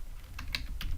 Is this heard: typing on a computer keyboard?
yes